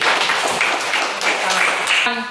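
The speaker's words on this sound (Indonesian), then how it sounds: "Tepuk tangan untuk Yuni dulu" A classroom of students claps for a classmate, a brisk burst of many hands close by that swells, dips briefly and ends with a voice starting at the close.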